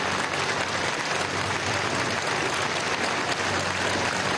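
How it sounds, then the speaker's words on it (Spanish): A large audience at the Teatro Nacional gives loud, sustained applause during a ceremony marking 200 years of the Carta de Jamaica, a dense and steady wash of clapping with no gaps. "Sí merece un aplauso grande."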